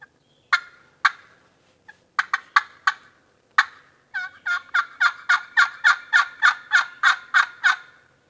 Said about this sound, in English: I think it's a turkey.